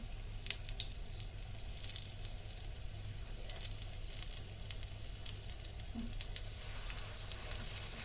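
Wild poppy greens fry in oil, a steady close crackling sizzle with scattered sharp pops and faint stirring clinks throughout, no voices.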